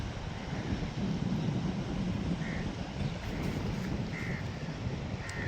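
An east wind blows steadily across an open riverside spur embankment, making a constant broadband rush with gusty swells. A few faint high chirps sit in the background.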